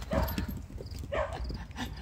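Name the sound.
excited goats running out of their pen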